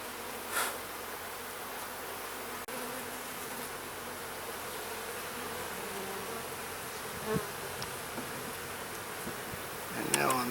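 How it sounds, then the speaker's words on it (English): Bees hum around an open hive frame during a split inspection, a steady, soft buzzing drone with a few brief louder passes close by. "And now on this one, I got a few bees."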